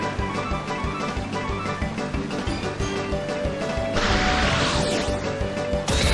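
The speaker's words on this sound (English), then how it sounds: "Zapdos starts to attack. A fierce blow. It's a direct hit." A hard-hitting attack by Zapdos in the Pokémon Battle Revolution video game: a sudden crashing impact bursts over busy, loud battle music and mechanical clatter, then fades quickly.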